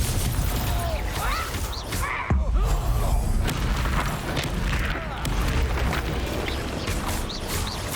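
The Confringo fire spell bursts in a Hogwarts Legacy battle, a heavy boom landing amid continuous loud combat noise, with other impacts and crackles around it and a voice calling out spells.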